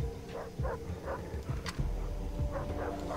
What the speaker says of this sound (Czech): Psi zase.